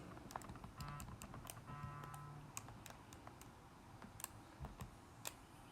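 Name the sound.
typing numbers into a calculator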